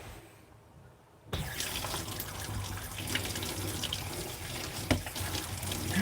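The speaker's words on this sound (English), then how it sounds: "You're going to turn on the water." A kitchen tap is switched on, and a steady, close stream of running water hits the sink after a brief quiet start, with a small splash near the end.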